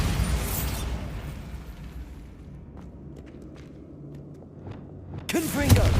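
A Bombarda blasting spell in Hogwarts Legacy goes off with a loud booming burst, preceded by a rumbling decay and scattered faint clicks and footsteps in a quieter stretch.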